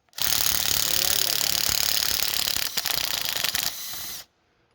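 A 3/8 impact wrench with a 15/16 socket removing the hub nut on an EZGO golf cart, a loud continuous buzzing rattle held close for about four seconds before cutting off abruptly.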